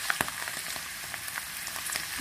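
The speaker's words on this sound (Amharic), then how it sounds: "እሺ መሽሩሜን ጠብሻ እየጠበስኩኝ ነው።" Sliced mushrooms fry in oil in a pan, giving a steady soft sizzle broken by scattered crackles and pops, with no voices.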